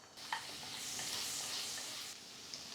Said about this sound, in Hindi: ऑयल में 1 टेबल स्पून हम लहसुन डाल देंगे